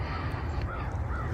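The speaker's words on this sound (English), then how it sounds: "I heard a crow there just a second ago too." Crow cawing at dawn over snow-covered ground near an Indian mound, a few faint, distant calls spaced across the stretch above a steady low rumble of ambient noise.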